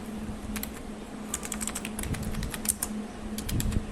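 Typing a plot number on a computer keyboard while working in AutoCAD, a run of quick, light key clicks in uneven bursts over a low hum, close and fairly quiet, with no speech.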